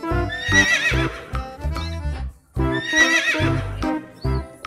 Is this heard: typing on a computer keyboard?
no